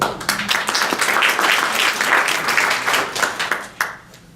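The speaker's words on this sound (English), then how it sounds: "Let's cut the applause and we'll have an opportunity to applaud at the end." An audience at a political candidate forum in Rochester, Minnesota, claps in a dense, loud burst of applause that holds steady and then thins out toward the end.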